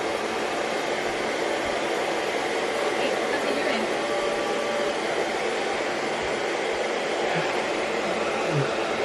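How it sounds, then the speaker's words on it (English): A hair dryer blows a constant, even rush of air to warm a sick animal on a homestead, a steady broadband whoosh held without pause from start to finish. "I kept the hair dryer on it."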